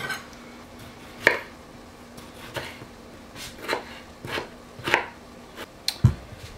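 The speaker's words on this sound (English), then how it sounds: "I love tomatoes, so I'm gonna dice them myself and use some fresh." Knife dicing fresh tomatoes on a cutting board for brisket chili, with sharp irregular chops spaced about a second apart, close and fairly quiet, and no talking.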